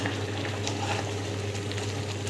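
Food bubbling in a covered pot on the stove, a steady low simmering rumble with soft, faint bubbling, continuous and unchanging, close by with no voices.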